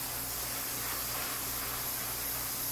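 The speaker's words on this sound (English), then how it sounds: "the airbrush works well enough" An airbrush sprays paint onto a model, giving a soft, steady hiss that runs continuously and quietly at close range with a faint low hum beneath it.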